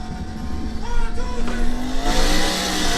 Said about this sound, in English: This has one of the best sounding engines to me.